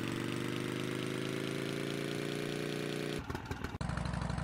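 A vehicle engine in a video game drones steadily, its revving hum continuous for several seconds before shifting and sputtering briefly near the end, with no talking.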